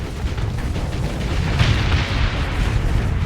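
Torpedoes explode in the space combat game Starsector, a dense, continuous rumble of booms and bursts that holds steady and loud throughout with no voices.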